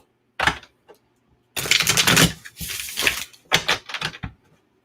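Thin cardstock cards from an illustrated crystal book set are riffle shuffled up close, giving bursts of crisp rapid fluttering and snapping, several separate runs with short pauses between them.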